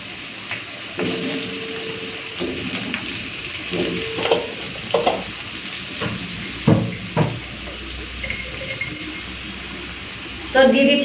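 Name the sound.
potatoes frying in a pan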